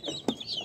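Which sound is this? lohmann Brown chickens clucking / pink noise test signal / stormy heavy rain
lohmann Brown chickens clucking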